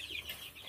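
Chickens in a backyard coop, including tiny newly hatched local chicks, give brief soft high clucks and peeps over a quiet background.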